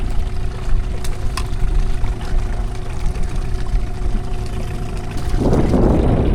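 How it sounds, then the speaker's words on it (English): A boat's outboard motor runs in reverse while fishing, a steady close engine hum with a faint whine, then a rush of churning water surges near the end. "the motor's in reverse and we're not even kind of moving backward"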